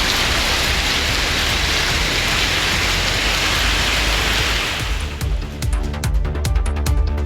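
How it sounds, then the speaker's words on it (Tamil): Heavy rain pours steadily in a dense, loud hiss across the Kumbakonam area, a continuous downpour that thins slightly toward the end into more distinct drips. "கும்பகோணம் உள்ளிட்ட பகுதிகளில் 1 மணி நேரத்திற்கு மேலாக கனமழை பெய்தது"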